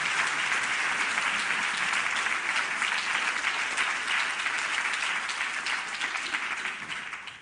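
Steady, dense applause from a conference audience at the 2012 Art Curators Conference welcomes two speakers to the stage, sustained and fairly loud for several seconds before fading at the end.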